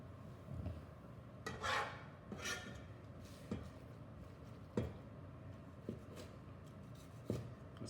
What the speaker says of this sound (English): And with the nice crispy skin, I just make my slices.